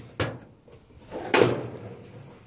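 A toolbox junk drawer holding brake tools, nuts, bolts and tape is pulled open, giving two distinct rattling slides about a second apart, close by and moderately loud, with no talking.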